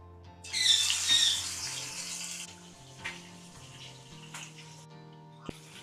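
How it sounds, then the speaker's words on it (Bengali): Pieces of rui fish slide into hot mustard oil, setting off a bright burst of sizzling that fades to a quieter spitting crackle, with soft background music running throughout. "তেলটা বেশ ভালো গরম হয়ে গেছে, এবার আমি এক এক করে মাছগুলো ভেজে নেব।"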